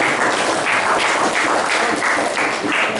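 Classmates applaud a student drama group in a school classroom; steady, dense clapping from a roomful of hands runs loud and unbroken throughout the short stretch.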